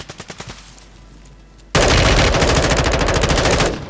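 Video game gunfire, first a short burst of rapid shots, then a pause, then a sustained loud fully automatic stream that runs for about two seconds before cutting off, close and harsh, with no voices.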